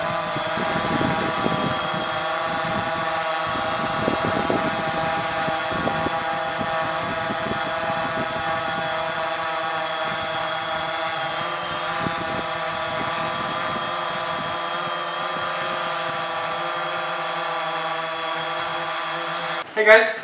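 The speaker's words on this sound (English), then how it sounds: "we just finished up our first flight with the DJI Phantom 3 Standard" A DJI Phantom 3 Standard quadcopter drone hovering nearby, a steady high-pitched buzzing whine of its propellers lasting throughout, with a few voices talking faintly underneath.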